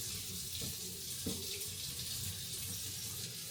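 Steady running water from a faucet into a single-basin sink as dishes are rinsed inside and out, a constant close hiss with faint clunks of dishware beneath, no talking.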